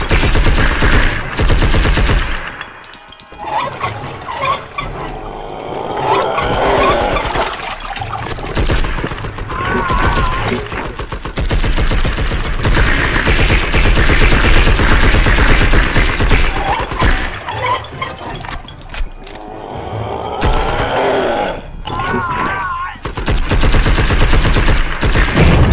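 Sustained bursts of gunfire in the video game Blood and Bacon, loud and dense across the scene, with heavy shots and rattling volleys mixed with game effects.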